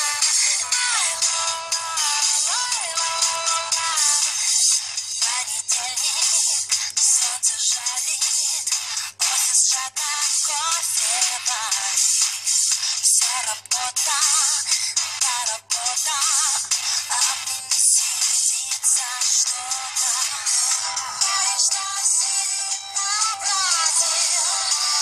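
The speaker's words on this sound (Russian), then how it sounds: "Все, мы сейчас вышли, телефон играет." Music plays from a Samsung phone speaker, a thin, bright, tinny sound with no bass, continuous and fairly loud throughout with a steady melodic line.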